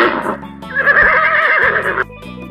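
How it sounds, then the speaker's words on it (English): A horse whinnies loudly in a long, wavering neigh lasting about a second and a half, with a brief softer snort before and after, heard close and alone with no talking. "Horse."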